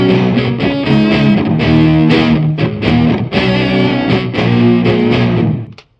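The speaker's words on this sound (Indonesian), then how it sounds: "Di sini ada 8 layer gitar distorsi." Eight stacked tracks of distorted electric guitar chug through a thick, loud rhythm riff in steady bursts, then ring out and fade at the end.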